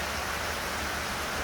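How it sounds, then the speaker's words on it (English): Steady rain pours down under a shed, a dense, even hiss with no breaks, filling the whole moment at a constant level. "Not even the rain can stop us."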